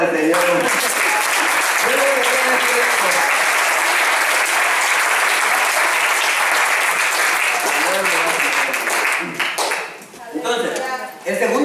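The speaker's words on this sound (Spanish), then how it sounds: "Denle un aplauso al Señor." A church congregation applauds in a loud, dense wash of clapping that carries on steadily for several seconds, with voices audible at the start and end.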